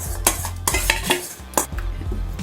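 A spoon stirring curd and eggplant together in a metal pot for a South Indian perugu pachadi, with quick scraping clinks and knocks against the pot in an uneven rhythm.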